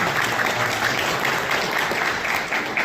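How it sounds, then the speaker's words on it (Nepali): An audience claps at a meeting of the Nepal Mobile Business Federation in Koshi Province. The applause is dense and sustained, with no break, and no one speaks over it. "ताली नै आयो यार।"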